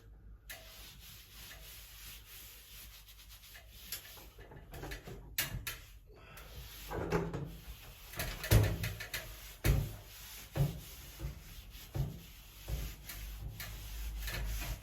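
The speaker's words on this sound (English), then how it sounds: "giving it a light wipe over, get rid of any excess paste" A cloth or sponge rubs and swishes across freshly hung wallpaper on a feature wall near the coving, wiping off excess paste in soft, irregular strokes that grow louder midway, with faint background noise.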